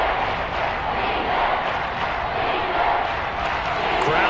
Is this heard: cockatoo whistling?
no